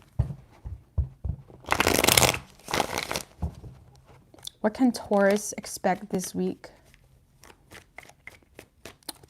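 Tarot cards are shuffled in several brisk riffling bursts near the microphone, with someone talking between and after the shuffles.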